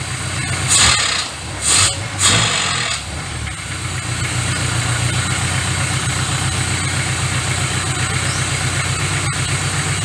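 A carbureted engine idles steadily with a low mechanical drone, after a few quick throttle blips that rise and fall in the opening seconds; it hesitates when accelerated quickly.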